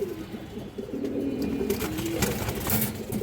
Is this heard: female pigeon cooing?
yes